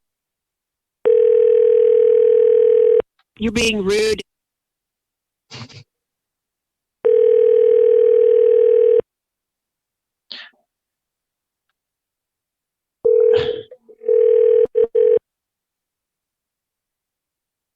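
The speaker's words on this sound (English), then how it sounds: "I just picked up the phone." A telephone dial tone sounds after the handset is picked up. It plays as steady tone bursts, each about two seconds long, broken by clicks and short bits of speech, loud and close.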